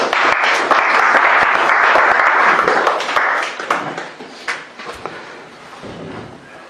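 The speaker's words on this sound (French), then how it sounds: "Acclamons Jésus." A church congregation applauds and cheers at a worship service, dense sustained clapping for about three seconds that then thins into scattered claps and fades.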